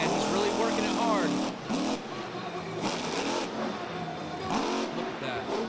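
A strained monster truck engine revving through freestyle jumps in a stadium, repeated loud surges of engine roar mixed with announcer commentary.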